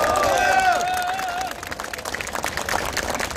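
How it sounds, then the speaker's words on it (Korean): A crowd claps at an election rally near Keimyung University intersection, a steady, dense patter of applause underneath a fading sustained tone, loud and continuous throughout. "박수 한번 쳐드릴까요?"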